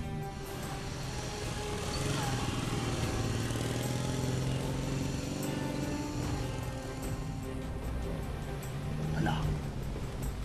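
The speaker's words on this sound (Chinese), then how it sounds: "就一辆摩托车" A single motorcycle engine puttering steadily at moderate distance, its low rumble rising slightly and then easing, heard faintly throughout with a voice speaking briefly.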